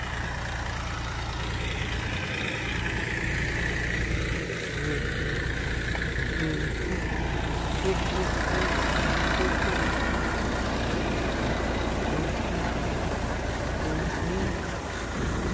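A tractor engine idles and rumbles steadily in a potato field during the harvest dig, a low continuous drone that runs throughout under a voice.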